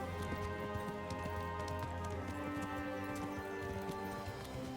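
Horse hooves trot at a leisurely pace in Kingdom Come: Deliverance, a steady clip-clop that runs close and continuous through the whole stretch over a dense bed of ambient game sound, with no talk.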